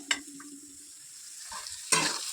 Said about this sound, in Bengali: এটা আস্তে আস্তে ভাজা হোক